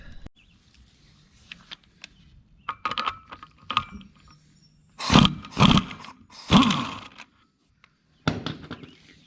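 A pneumatic air impact wrench loosens lug nuts on an LLY Duramax truck wheel, sounding as three loud, close bursts of hammering whir, each about a second long, after quieter clanks and handling noise.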